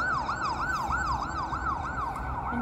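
A fast, yelping siren cycles rapidly up and down in a regular pattern, loud and close, over a rumbling engine.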